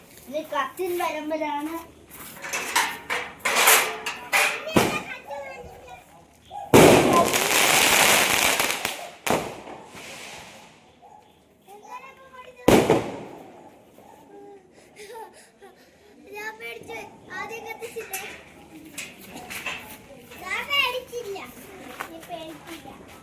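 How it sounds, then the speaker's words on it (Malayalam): Diwali firecrackers bursting on a crowded road: several loud, sharp bangs and one long crackling burst, with children chattering and calling out in between. "റോഡ് ഫുൾ ആൾക്കാര് പടക്കം പൊട്ടിട്ടുണ്ട്."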